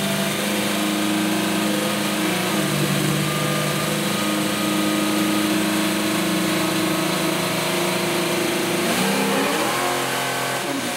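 A car engine revs hard and steadily during a dyno run, a loud sustained roar with droning tones that holds for most of the stretch and shifts pitch near the end.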